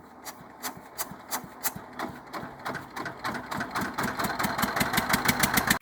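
A tractor loaded with fodder chugs steadily up close, its rhythmic engine pulses quickening and growing louder before cutting off abruptly.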